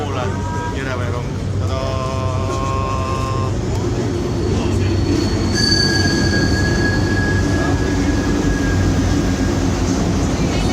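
Train rolling into a station with steady rumble, wheel squeal and a sustained high tone, close and loud throughout, with brief voices near the start.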